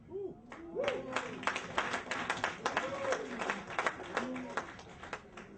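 Scattered audience clapping at a speaking event, a cluster of distinct claps ringing out over and between a speaker's talk, moderately loud.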